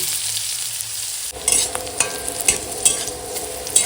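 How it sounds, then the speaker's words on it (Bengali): Mushrooms tossed into hot oil with dried red chilli tempering, a loud, close sizzle broken by the scrape and clatter of a stirring spatula. "এখন তেলের মধ্যে শুকনো লঙ্কা ফোড়নটা দিয়ে ফোড়নটা ভাজা হয়ে গেছে এখন দিয়ে দেবো মাশরুমটা"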